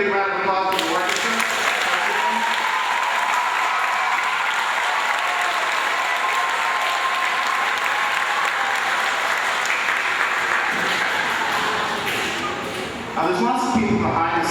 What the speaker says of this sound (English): let's give another big round of applause for the orchestra